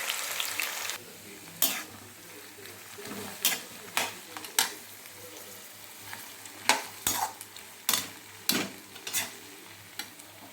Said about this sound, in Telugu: ఇప్పుడు మనం ఆల్రెడీ తరిగి పెట్టుకున్న దొండకాయని అందులో వేసుకుని వేపాలి